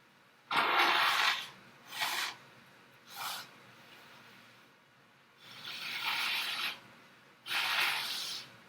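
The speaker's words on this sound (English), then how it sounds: "I really had to blow my nose." Several forceful nose blows, bursts of breathy snorting noise spaced a second or so apart, close by, some longer and some short.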